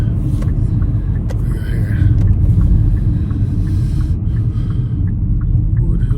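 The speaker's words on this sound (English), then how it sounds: "There's a car coming from the other direction right now." A car approaching from the opposite direction on a quiet Adirondacks forest road, heard from inside a moving vehicle as a deep, steady close rumble with a faint swell of passing tire noise.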